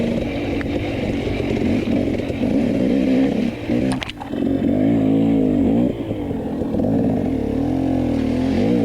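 An enduro dirt bike engine runs steadily at close range through a 2020 Saddleback Extreme Enduro race, droning with a rough, low growl and a brief dip and surge partway through, with no voices.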